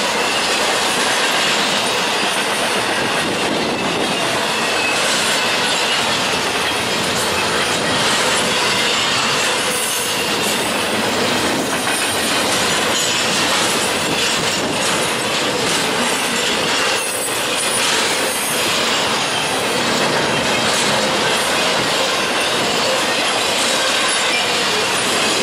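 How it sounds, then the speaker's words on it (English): A train rumbles past close by at a railroad crossing on the Allegheny for the whole stretch, loud and continuous, with rhythmic clacking of wheels over rail joints and occasional metallic squeals. "It's going by right now. Third train of the trip so far."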